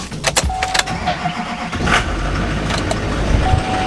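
A dually truck engine cranks and catches after a few clicks and clunks, then settles into a steady rumbling idle nearby.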